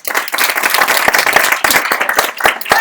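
An audience at an improv comedy show applauds in a loud, close burst of dense clapping that keeps going.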